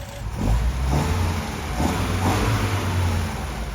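A Mercedes 190SL engine revs as its accelerator linkage is pressed, a loud close mid-pitched roar that swells in a few quick blips over a steady running note.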